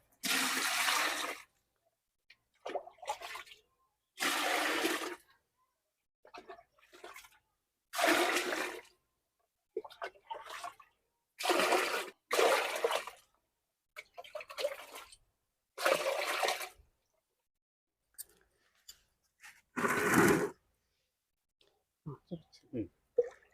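Banana peel liquid fertilizer is poured into a bucket in repeated short gushes of sloshing water, separated by pauses and fairly close, while a person speaks between the pours.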